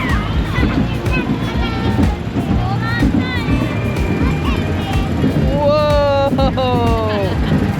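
A big, intense roller coaster starts its ride as steady loud wind roar and rumbling track noise build, with chattering voices and screeching wheel squeals rising near the end.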